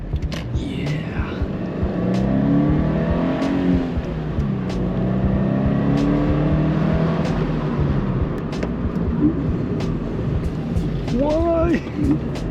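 Toyota GT86 engine revving and rising through gears while driving, with a clear downshift near the end; steady, moderately loud in-cabin engine drone throughout, with people talking over it.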